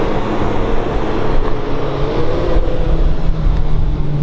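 A 1932 Ford 5W Coupe retro-rod with an original steel body, driven on the road. A steady, close engine and road drone is heard from inside the car, holding an even level throughout with no voices.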